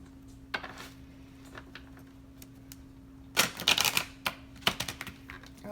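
A deck of tarot cards being shuffled by hand, soft riffling and papery flicks in short irregular bursts, close but quiet, with quiet stretches between.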